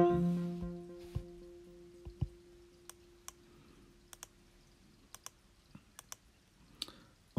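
Sharp, isolated mouse clicks while operating Arturia iSEM synthesizer software on a computer, roughly a dozen quiet taps at irregular intervals over a low steady hum, following a fading synth tone.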